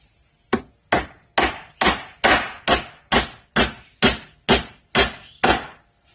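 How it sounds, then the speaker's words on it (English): A hammer drives nails into treated decking boards in a steady rhythm, about a dozen sharp, loud, close blows evenly spaced, each ringing briefly. "this is my favorite hammer right here"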